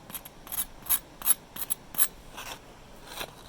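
Crisp sourdough bread crust crunching and crackling when squeezed, a series of short sharp crackles close up and fairly quiet, spaced irregularly over a few seconds.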